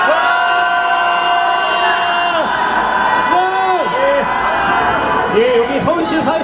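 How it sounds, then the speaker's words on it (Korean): Crowd at a labor union strike press conference in Seoul shouting a collective cheer, many loud voices raising wavering, drawn-out yells together that continue unbroken for several seconds. "함께 함성 한번 외쳐보도록 하겠습니다. 함성 5초간 발사!"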